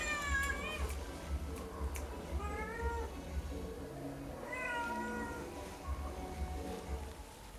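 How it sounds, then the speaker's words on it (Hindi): A cat meows repeatedly, several drawn-out, rising and falling calls close by over a steady low hum, with no talk alongside. "बिल्ली आ गई भाई यहां पर"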